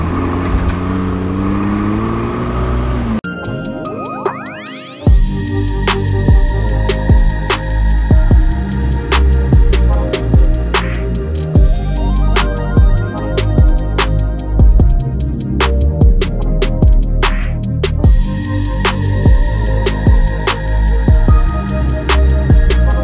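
A McLaren 600LT sports car starts up and revs hard, its loud engine surging and snarling through repeated throttle blips and acceleration, close and dominant throughout.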